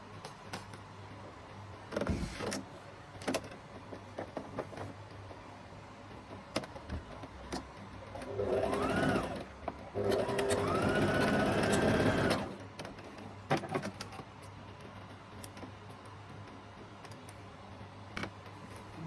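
A sewing machine stitches the side seam of a half circle flare maxi skirt, running in two steady bursts of moderate loudness with small clicks and handling sounds around them and no talking.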